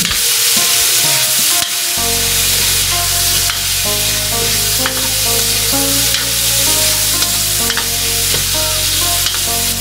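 Pork adobo frying in a pan with pepper, salt and sugar just added, stirred steadily with a constant sizzle and scraping that stays loud and close from start to finish, with no talk.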